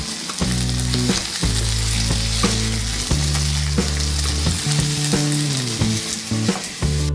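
Prawns fry loudly in a pan with a steady, dense sizzle and occasional stirring scrapes, with background music playing throughout.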